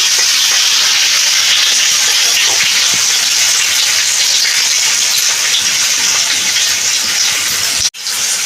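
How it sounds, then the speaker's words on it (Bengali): Elephant foot yam kofta and tomato frying in oil in a pan in a Bengali kitchen, a loud, steady sizzling hiss that holds evenly before cutting off abruptly near the end. "ভালো করে ভেজে নিচ্ছি"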